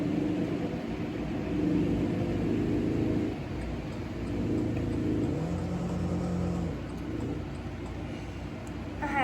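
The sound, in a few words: drift car drifting around a corner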